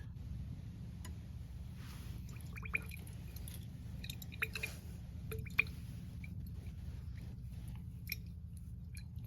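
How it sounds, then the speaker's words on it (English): Titrant drops falling from a burette into a flask during a school titration lab: faint, sparse little drips and soft ticks over a steady low hum, no voices. "So let's add 1 more drop."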